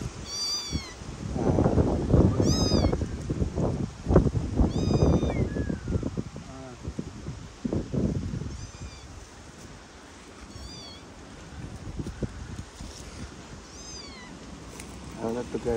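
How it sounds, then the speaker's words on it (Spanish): An abandoned kitten, found in a sack while firewood was being gathered outdoors, gives repeated high, thin meows in short bursts, close by, with someone talking over and between the cries. "pobre gatito"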